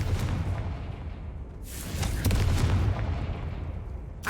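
A Confringo fire spell from Hogwarts Legacy bursts with a sharp crack near 1.6 s and a second heavier blast around 2.2 s, over a rumbling low game background with no talk.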